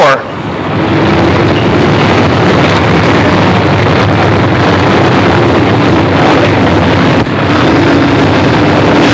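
Late model stock cars race at Pennsylvania Motor Speedway in Pittsburgh, their engines a dense, loud, continuous roar blended with heavy wind noise and a commentator talking over it.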